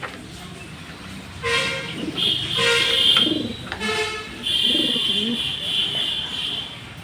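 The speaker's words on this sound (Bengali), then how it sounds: "এটি জনসন লাইনের একটি মাদি কবুতর।" A female Johnson line racing pigeon coos in a loft, soft repeated burbling calls close by, with a horn-like tone and people talking in the background.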